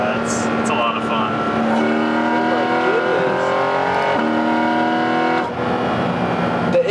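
A loud naturally aspirated flat-six engine in a Porsche GT4 RS revs hard and climbs through its gears, its strained tone rising and falling steadily throughout, with voices talking over the roar.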